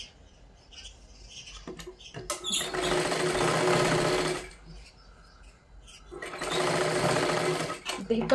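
A sewing machine stitches a size 40 katori blouse in two steady whirring bursts of several seconds each, with brief pauses and quiet handling between runs, close by.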